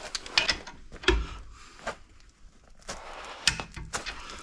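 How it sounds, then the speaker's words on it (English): A torque wrench ratchets on skid plate bolts under a vehicle, short bursts of close metallic clicking with pauses, the bolts brought to 45 foot-pounds. "So tighten up those top and bottom ones. 45 foot-pounds of torque,"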